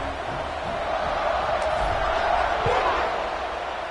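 Crowd noise fills a football stadium just before a kickoff following a touchdown drive, a steady dense roar of cheering that holds loud and continuous throughout.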